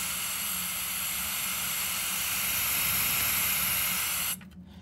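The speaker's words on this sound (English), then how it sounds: "You hear that air?" Steady broadband hiss of air rushing through an igniter plasma device running at around 68 watts, loud and continuous before cutting off abruptly near the end.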